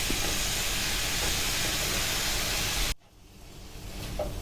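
Sugar peas and minced pork stir-fry in a hot pan with a loud, steady sizzle that cuts off sharply partway through. A softer hiss follows and slowly builds again.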